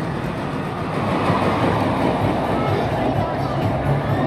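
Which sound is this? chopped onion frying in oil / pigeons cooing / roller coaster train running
roller coaster train running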